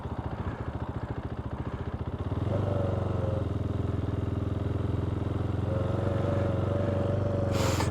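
A KTM 390 Duke single-cylinder motorcycle engine idles close by, first with a rough, uneven pulsing chug, then settling into a steadier, louder drone with a faint whine riding on top. No one speaks.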